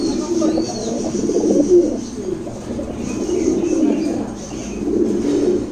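Pigeons cooing on a pigeon farm, several birds giving soft, rolling low coos in overlapping repeated phrases, close and steady, with no talk.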